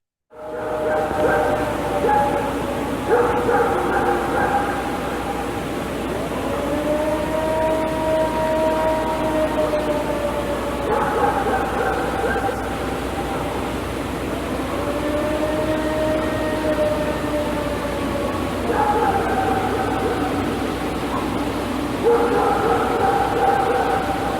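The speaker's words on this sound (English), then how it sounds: "The howls, I'll throw the Ohio howls in here again so you guys can kind of hear what those sound like" Long, drawn-out mournful howls repeat one after another, sustained and wavering like a distant siren, over a constant background hiss.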